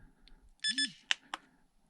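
An LDARC CT01 budget car and tank radio sounds its low-voltage alarm: a short rising tone, a pair of high beeps, then two sharp chirps, close and fairly quiet with no talk.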